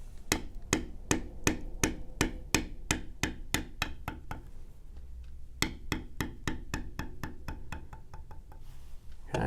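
A mallet taps a beveling tool into leather in quick, even, sharp strikes, about two dozen close knocks in a steady rhythm with a short pause midway before the tapping resumes.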